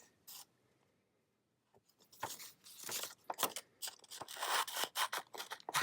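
Scissors cut out paper stencils with repeated crisp snips and crunchy paper rustles, sparse at first after a near-silent pause and then quick and irregular, close up.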